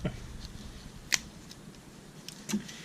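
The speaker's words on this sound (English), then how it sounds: "these are just the usual Swiss Army knife scissors" A couple of faint, crisp snips from the small scissors of a Victorinox Cybertool Lite Swiss Army knife, isolated clicks against a quiet room background.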